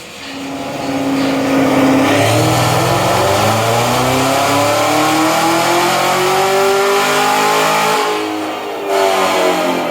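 A Cadillac CTS-V fitted with a Magnuson 2650 supercharger runs on pump gas on a dyno, revving up into a loud sustained pull with rising engine pitch and supercharger whine, then easing off and blipping again near the end.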